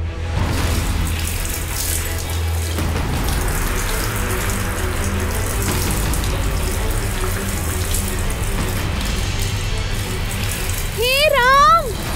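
Water gushes steadily from a tap that will not turn off, a continuous close rushing sound in a home setting, with voices and background music partly over it.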